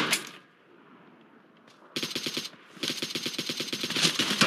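Machine gun fire in a video game, two sustained bursts of rapid, evenly spaced shots after a short quiet stretch, loud and close, with the second burst running to the end.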